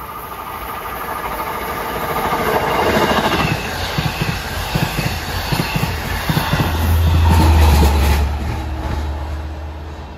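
LIRR commuter trains at Carle Place on a triple-track line roll past in a steady loud rumble, with rhythmic clatter building around the middle and a low engine drone swelling near the end.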